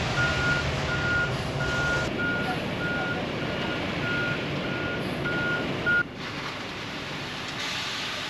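Concrete truck reversing at a construction site for a workshop, its backup alarm giving a steady series of evenly spaced beeps over a loud, continuous diesel engine rumble, with no talk.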